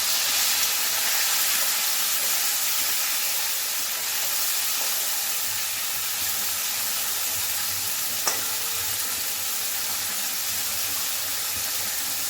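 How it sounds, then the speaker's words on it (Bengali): Jackfruit and prawns frying in oil in a kadai, giving a steady broad sizzling hiss with a faint low rumble beneath and one brief clink partway through, continuous and close without talk. "এবারে লাল করে একটু ভাজতে দেবো।"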